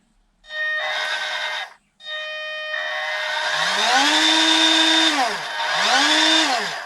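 Cheap 1/16 scale Fayee FY004A Oshkosh HEMTT RC military 6x6 truck's electric motor whines loudly and close under throttle, with a short burst, a pause, then longer revs that rise and fall in pitch. No one speaks.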